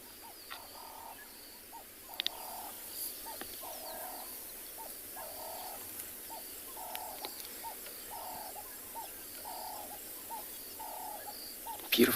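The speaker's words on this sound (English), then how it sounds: "Beautiful sound of a bird." Birdsong at sunrise in the South African bush: a dove-like bird repeats a soft, rhythmic cooing phrase at steady intervals, moderately near, over quiet ambient air and occasional faint clicks.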